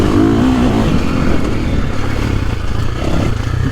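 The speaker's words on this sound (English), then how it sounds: "Internal combustion engine, old school, right?" A KTM 450SXF petrol four-stroke motocross bike revs hard at a GP track, its engine a loud, close, continuous rasping roar throughout.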